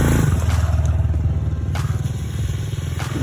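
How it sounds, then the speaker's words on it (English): Dirt bike motorcycles churning through trail puddles on Barnwell Mountain, a close, loud engine drone with rhythmic pulsing and splashy clatter, no voices. "Boys loved riding through these puddles right here."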